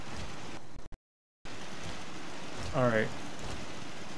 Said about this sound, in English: Oh my, it's raining again.